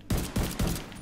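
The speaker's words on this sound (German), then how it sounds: "Ich gehe zum schweren Geschütz." Heavy gun fire in The Division 2, three loud, close, evenly spaced shots in quick succession, each with a short echoing decay.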